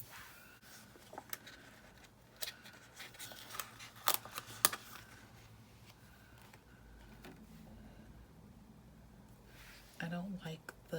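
Scissors snip paper while a planner page is decorated, a few brief crisp cuts near the middle against quiet room tone, with soft handling noises and a person talking at times.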